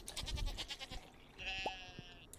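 A baby goat in the Stardew Valley farming game gives a short, clear bleat after a stretch of background game sounds, close and moderately loud.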